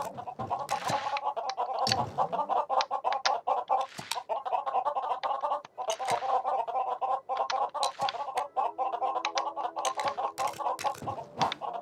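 Chickens in the Lego Worlds video game clucking continuously and fairly loudly, a dense run of overlapping bird calls with brief pauses and a few sharp clicks, no speech.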